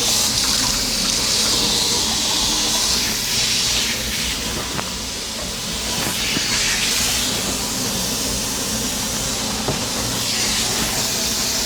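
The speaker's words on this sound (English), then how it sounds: "rinse off my knife" Tap water runs steadily while a knife is rinsed at a kitchen sink during home cooking, a continuous close hiss and splash holding for the whole stretch with no talking.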